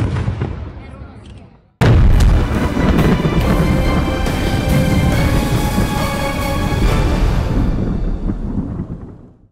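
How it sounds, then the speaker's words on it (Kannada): A quarry blast at a hillside stone-cutting site gives a sudden loud explosive boom, then a long, dense roar of debris and rumbling that slowly fades. "ಕರ್ಕಶ ಶಬ್ದ ಜೊತೆಗೆ ಭಯಾನಕ ಸ್ಫೋಟ, ಧೂಳು"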